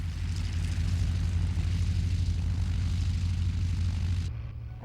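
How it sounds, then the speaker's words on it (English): A Junkers Trimotor antique plane with three Pratt & Whitney Wasp radial engines drones close and steady, a thick low rumble that cuts off abruptly near the end. "Junkers Trimotor is an exception among the antique planes"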